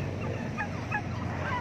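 Several short turkey gobbles ring out over a steady low outdoor rumble, with soft bird calls scattered through.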